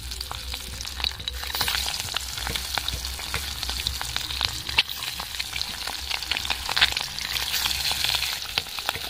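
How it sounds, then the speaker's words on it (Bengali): Eggs dropped into hot mustard oil sizzle and crackle continuously, with dense spitting pops close by and no voices. "তেল গরম হয়ে গেছে। এবার আমি ডিমগুলো দিয়ে দেব তেলের মধ্যে।"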